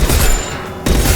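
Rapid gunfire in a Mass Effect 2 firefight, a dense burst of shots lasting about a second, broken by a short lull before the shooting resumes loudly.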